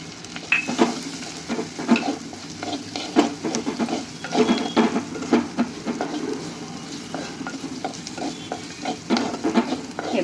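Chopped chili, garlic and onion fry in a pan for paneer bhurji, with a steady sizzle broken by repeated scraping and clinking of a spatula against the pan as the mixture is stirred.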